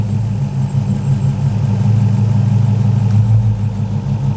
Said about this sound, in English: The engine note changes and it starts to shake a lot more.